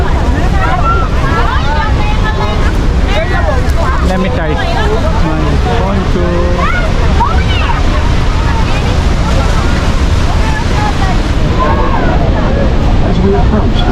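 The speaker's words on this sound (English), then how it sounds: "This is the Niagara Horseshoe Fall." Niagara's Horseshoe Falls roaring beside the Maid of the Mist boat, a loud constant wash of water and wind buffeting the microphone, with excited voices and chatter over it throughout.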